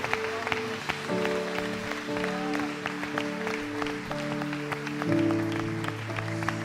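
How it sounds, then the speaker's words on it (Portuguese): A church congregation claps during a worship service while sustained organ or keyboard chords play underneath, the clapping moderate and steady throughout with the music swelling near the end. "Vamos aplaudir a Deus pela Sua palavra"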